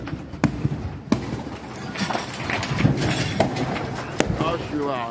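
Sharp explosion bangs and pops burst out irregularly amid a roaring, crackling apartment building fire, with excited voices shouting in the background.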